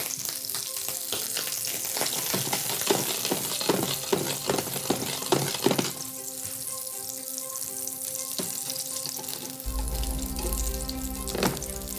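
Carrots cook in butter in a pan, giving a steady bright sizzle and crackle with occasional clinks and stirring sounds, loud and close throughout.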